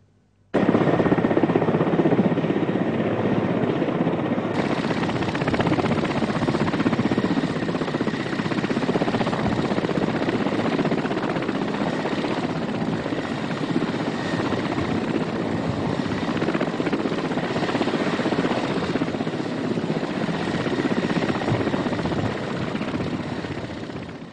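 A Chadian army helicopter hovers over a military base during elite-unit smooth-rope descent training, its rotor making a loud, continuous beating roar that stays steady and close for the whole stretch.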